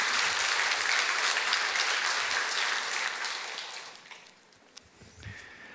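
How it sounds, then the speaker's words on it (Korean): A church congregation claps during a Sunday service, a busy burst of applause that fades out after about four seconds, leaving a few stray sounds near the end. "박수도 좀 쳐가면서 해야 되거든요"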